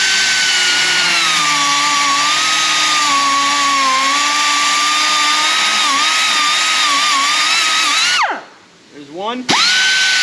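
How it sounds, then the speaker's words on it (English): A cutoff wheel slices a slit into an exhaust sleeve during a 2017 Audi Q5 repair, a loud, steady high-pitched whine running for about eight seconds before winding down and briefly restarting. "We got the nice cutoff wheel."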